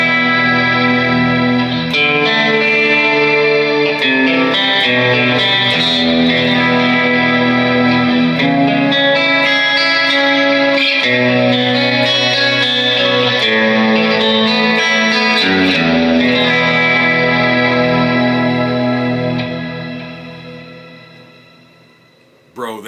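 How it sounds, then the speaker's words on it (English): A sustained, heavily processed electric guitar chord through a Leo Jaymz Silverbox pedal's shimmer preset, with a lush, shimmering reverb wash that rings on for about twenty seconds, then fades out. "Listen to the shimmer on this."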